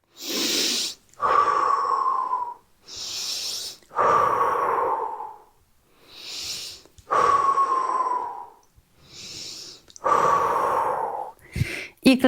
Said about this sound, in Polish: najpierw wyrównamy oddech